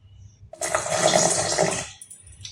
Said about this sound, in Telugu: కొంచెం వాటర్ యాడ్ చేసుకుంటున్నాను.